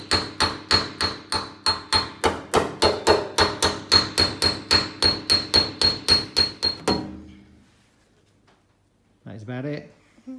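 Metal panel being hammered for a Ferrari 250 GTO go-kart body: about twenty loud, close, evenly spaced blows ring out in quick succession, then stop, and after a short silence a voice speaks.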